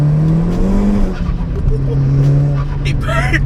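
A 370 bhp Seat Cupra R with a K04 hybrid turbo and forged engine accelerates hard in second gear, the engine note climbing loud and close while the tyres scrabble for grip, with people talking over it.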